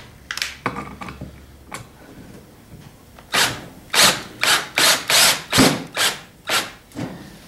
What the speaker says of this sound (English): I'm going to drill it the rest of the way in